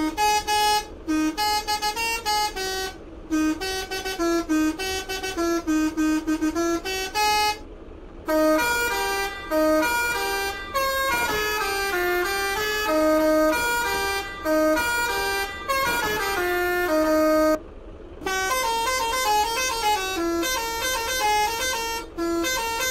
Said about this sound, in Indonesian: langsung kita dengerin suara telolet Alziva